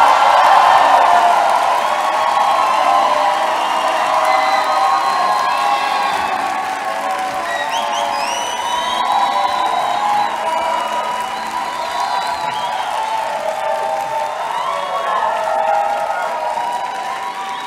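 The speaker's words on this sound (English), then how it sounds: "Thanks for the warm applause." Graduation ceremony audience at a hospitality school cheers and applauds warmly, with whoops and shouts over a dense, sustained wash of clapping that stays loud for the whole stretch and eases slightly toward the end.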